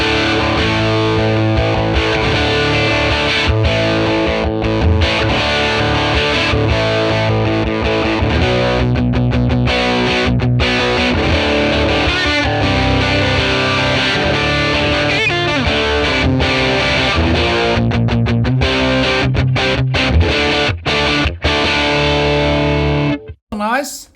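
Electric guitar played through a 1957 Tweed Bassman ToneX model on its crunch setting, a loud, continuous run of distorted chords and riffs lasting about 24 seconds before stopping abruptly.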